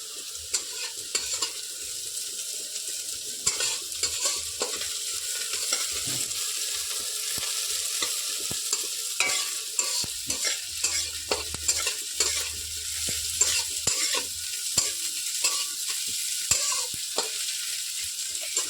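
Ghatkol (kharkol) paste frying and being stirred in a pan, a steady close sizzle with frequent scraping stir strokes running throughout, no voices.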